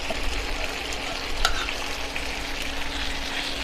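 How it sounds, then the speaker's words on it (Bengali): Meat gravy poured into hot oil, sizzling and crackling steadily at close range with light stirring scrapes, one brief louder burst midway and no talking. "এখন আমি যে চাপের ঝোলটা ছিল সেইটা তেলের মাঝে অ্যাড করে নেব।"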